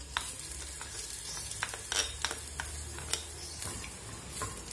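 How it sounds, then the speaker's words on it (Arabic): Onion frying in oil in a cooking pot: a soft steady sizzle with scattered light clicks and stirring taps, fairly quiet with no voices. "خليه يتقلى شويه في الزيت"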